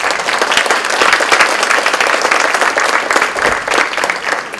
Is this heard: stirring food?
no